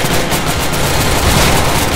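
Rapid, continuous carbine gunfire from the Roblox zombie game, loud and dense throughout, a steady rattle of shots with no talk over it.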